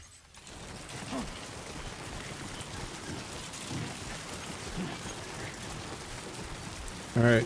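Steady timefall rain from the video game Death Stranding 2, a dense continuous downpour with low rumbling undertones running throughout, with a brief louder burst at the very end.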